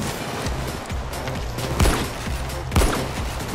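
Rapid automatic gunfire bursts with heavier booming blasts in the heist shooter video game Payday 2, loud and continuous across a few seconds with no speech.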